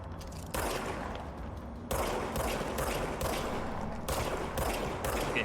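Gunfire in the video game Control, with bursts of rapid shots in repeated volleys separated by short pauses, loud and close with no talking.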